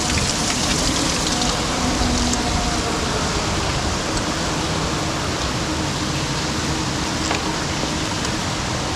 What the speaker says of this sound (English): So it's been raining for several hours.